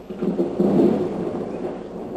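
Thunder rumbles during a stormy spell in Chad, a low, steady roll that swells around the middle and then lingers at a moderate level, with no voices present.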